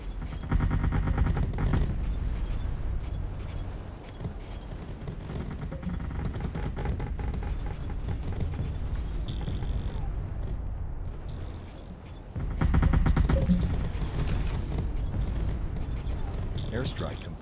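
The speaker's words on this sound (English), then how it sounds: "Airstrike complete." Airstrike gunfire and explosions in the game Artificial Extinction, hardest difficulty with mortars and flak: dense, continuous rattling bursts and booms, loud throughout, swelling again near the end, with a voice speaking over the battle.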